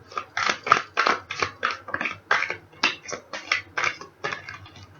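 Tarot cards being shuffled by hand at close range, a quick run of about a dozen crisp riffling bursts in a steady, slightly uneven rhythm, with no talking.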